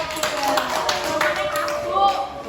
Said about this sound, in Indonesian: Oke, beri tepuk tangan untuk kelompok